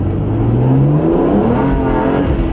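A BMW 1M fitted with an aftermarket exhaust revs hard through an acceleration run, its engine note climbing steadily in pitch, loud and close, with no talking.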